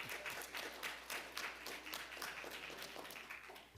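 Audience members at a city commission and community redevelopment agency joint meeting clap in a faint, scattered burst of applause, individual claps distinct and uneven, dying down toward the end.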